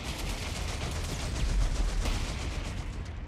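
Gunfire in the video game Company of Heroes 3 during a town battle, a steady dense rumble of shots and blasts with a heavier low thump midway, loud and without speech.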